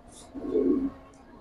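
Pigeons in breeding cages give a single soft, low cooing call near the middle of the moment, moderately close, with faint background noise and no talk.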